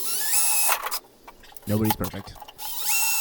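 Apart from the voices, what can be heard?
power drill widening holes in rackmount case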